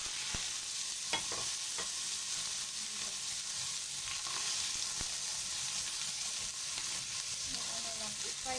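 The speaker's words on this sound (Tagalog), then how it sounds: "Painit ako ng mantika and then let's fry." Beef fries in hot oil, giving a steady, dense sizzle with a few faint clicks and taps, close but fairly quiet and continuous, with no voices.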